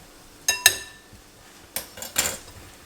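Salad ingredients tossed together in a bowl, with a few sharp, sparse clinks of utensils against the dish spread over a few seconds, close by and otherwise quiet.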